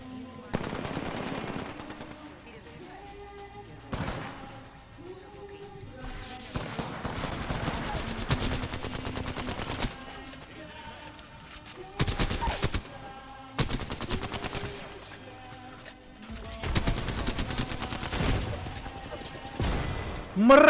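Bursts of rapid automatic gunfire, loud and close, fire in several long volleys separated by short pauses, with voices shouting between them.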